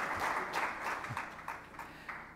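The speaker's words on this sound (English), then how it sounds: "Round of applause." Faint, distant applause from a small group at a new beverage showdown event, a brief patter of clapping that fades out.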